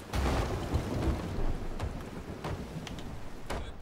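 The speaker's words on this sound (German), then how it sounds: "Gar nichts, das ist der Sturm." A thunderstorm at sea in the game Sea of Thieves: a dense roar of rain with deep rumbling thunder and sharp crackling strikes, loud and steady with no voices.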